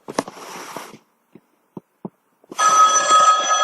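A telephone rings in two loud bursts, separated by a quiet gap with a few faint knocks.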